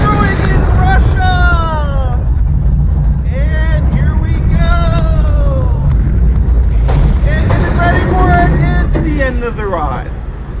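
Whirlwind roller coaster at Wonder Island Park in Russia running through a double corkscrew, steady loud rush of wind and rumbling track under continuous excited screams and cheering from riders.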